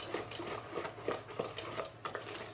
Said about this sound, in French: Voilà, on mélange bien